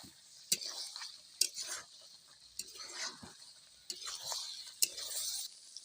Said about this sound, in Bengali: এরপর আমি আলু আর মাংসগুলো ভালোভাবে কষিয়ে নেব।